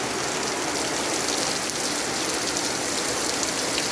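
Heavy rain during a strong storm pours down steadily, a dense, loud, continuous hiss of water on surfaces with no pauses and no voices.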